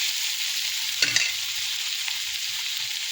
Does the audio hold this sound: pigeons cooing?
no